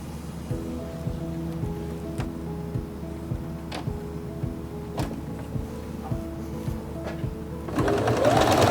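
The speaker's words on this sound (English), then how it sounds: "let's stitch it out." A Singer Quantum Stylist 9960 sewing machine stitches steadily and close by, its rapid mechanical needle rhythm running throughout with small ticks, and a brief rise in noise near the end.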